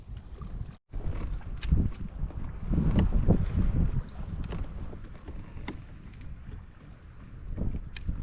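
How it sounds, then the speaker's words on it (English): Strong wind buffets a microphone out on open water during kayak fishing, a loud, continuous rumbling roar that surges and eases, with faint knocks against the boat. "that wind is crazy"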